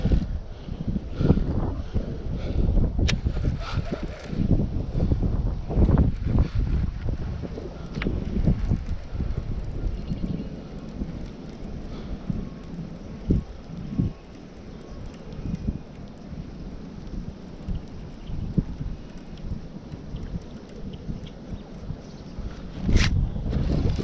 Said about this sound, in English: Hopefully you guys can hear me over the wind out here. I know it's freaking blowing